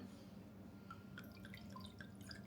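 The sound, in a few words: pouring muscadine and blackberry wine from bottle into glass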